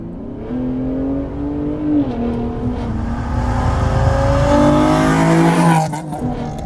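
A new Ford F-150 Raptor's six-cylinder engine revs loudly and close, its droning pitch climbing and holding in long rising pulls before easing off.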